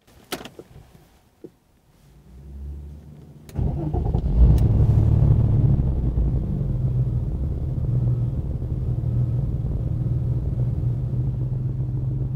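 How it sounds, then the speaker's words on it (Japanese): A 1996 Porsche 911 Type 993 Carrera Tiptronic S Aero Version cranks over after a few faint interior clicks, its engine catching with a loud burst and settling into a steady, rumbling idle close by. "ではエンジン始動していきます。"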